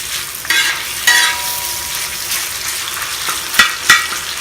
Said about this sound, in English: we'll use this grease in the middle to cook the next ingredient, the pork